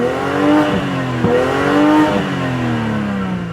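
A 2019 BMW X5 engine revs up and down in smooth rising and falling sweeps, loud and close, with gear changes breaking the pitch.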